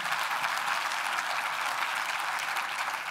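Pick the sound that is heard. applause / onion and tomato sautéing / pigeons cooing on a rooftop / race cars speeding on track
applause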